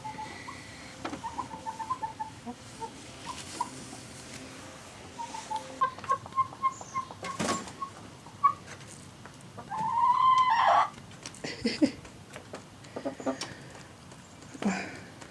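Chickens chatter in the coop with soft scattered clucks and murmurs and one longer rising call in the middle, close by and unhurried, with no talking.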